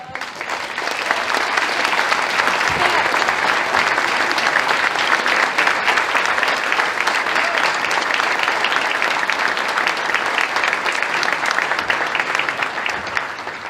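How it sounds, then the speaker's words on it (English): Audience at a school spring athletic awards ceremony gives a sustained round of applause for standing teams, dense even clapping filling the room for over ten seconds with no talk. "We can have all of our teams stand for a round of applause."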